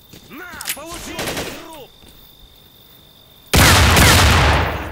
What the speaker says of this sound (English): Should probably use my machine gun.